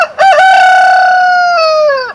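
A big rooster crows once, loud and close: a clipped rising start, then a long sustained call that bends down at the end.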